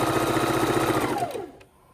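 A sewing machine stitching quilt blocks for a log cabin quilt runs with a fast steady mechanical chatter, then winds down and stops near the end.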